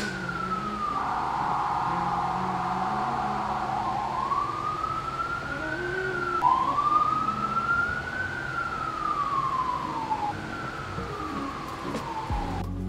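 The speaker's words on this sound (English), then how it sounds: "Sirens." Emergency vehicle sirens wail on a New York City street, a loud continuous siren sweeping up and down in long glides, with a second overlapping siren tone and traffic rumble beneath, no talking.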